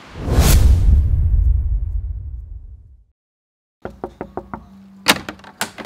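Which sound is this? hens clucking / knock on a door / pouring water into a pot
knock on a door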